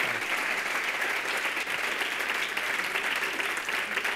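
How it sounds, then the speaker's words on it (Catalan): An audience at an education event applauds student presenters in a thick, even wash of clapping that stays loud and steady throughout, with no voices rising above it. "Un aplaudiment per ells i per tots sis."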